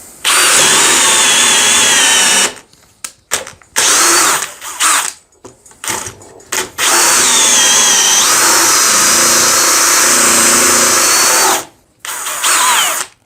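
A Parkside PPBSA 20 Li A1 cordless drill roars loudly in long bursts as a 25 mm bit bores into wood in second gear, with pauses between runs and the motor straining under load.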